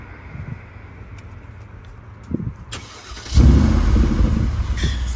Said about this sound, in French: Tu peux nous le démarrer, frérot, s'il te plaît, qu'on entende un peu le son incroyable